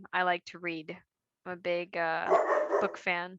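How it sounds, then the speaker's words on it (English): A pet dog barks a few times in the background, the yips and barks mixed in and partly masked under a woman's close, steady talking. "that's my dog in the background"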